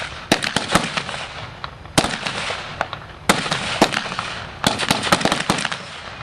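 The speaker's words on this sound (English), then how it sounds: "The M1 Garand rifle." Rifle shots from M1 Garand rifles at a 1944-style close assault reenactment, heard as several sharp, loud cracks in irregular clusters, with a few fainter distant shots between them.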